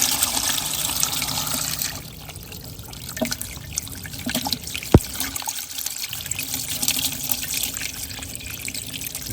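Water running through a PVC yard drainage pipe, a steady hollow trickle and rush with a single sharp knock partway through.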